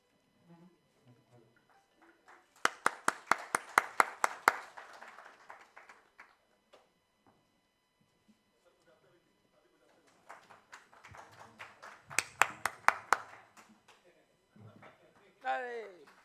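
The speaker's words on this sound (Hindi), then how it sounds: "ताली बजाइए ना," An audience at the Delhi Nalanda Dialogue literary festival breaks into two bursts of sharp, rhythmic hand claps, each lasting a few seconds, with a speaker talking between and after them.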